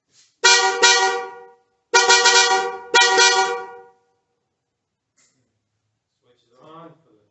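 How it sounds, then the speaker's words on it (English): Factory horns on a 1992 Ford F150 honk three times, close and loud, the last two blasts back to back, followed by silence and a faint breath near the end. "I'm just going to do the factory horns"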